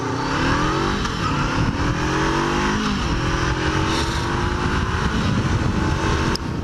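Honda CB500F motorcycle engine running steadily while riding, a loud continuous drone with slight shifts in pitch and no talk over it.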